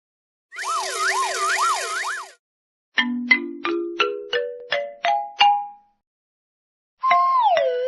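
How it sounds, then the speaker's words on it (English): A police car siren wails in a rapid up-and-down cycle for about two seconds, clear and close, then a run of rising ding tones and a short falling horn-like tone follow, with no talking. "Police car."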